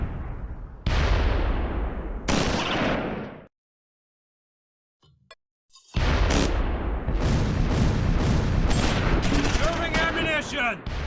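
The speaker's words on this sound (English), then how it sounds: "Private Hooker's medium machine gun opens up from the rear of 2nd Platoon's position" Bursts of medium machine gun fire rattle in the Close Combat 4 WWII battle at Echternacht, loud and dense, with dull booms mixed in; the firing breaks off into near silence, then resumes with sharp repeated cracks.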